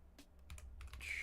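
Close keyboard typing on a computer during a tournament stream: a few scattered key taps at first, then a faster burst of clicks, quiet and close with no talking.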